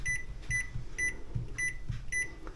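A COSORI dual-zone air fryer warming up, giving a regular series of short high electronic beeps about every half second over a low, faint fan hum.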